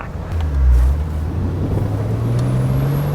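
A Jeep Wrangler, long abandoned and newly cleaned up, drives along a road, its engine and road noise forming a steady, fairly loud low drone that swells slightly early on and holds with no talking.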